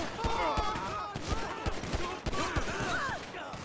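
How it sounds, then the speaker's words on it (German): Rapid gunfire crackles in GTA 5, with a dense volley of sharp shots and bursts at moderate distance while someone talks over it. "da schießen alle, die rauskommen"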